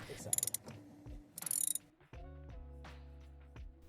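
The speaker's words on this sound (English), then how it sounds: "back off this ground screw located at the upper left. It's a 10mm socket." A 10mm socket on a ratchet backs off a car's ground screw: two short, close bursts of rapid clicking, followed by a quieter steady tonal hum.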